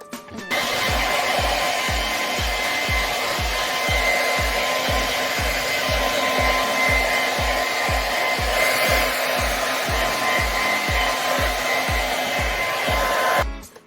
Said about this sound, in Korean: 이제 드라이로 말려준 다음에 제가 힙에다가 포장을 하려고요 지금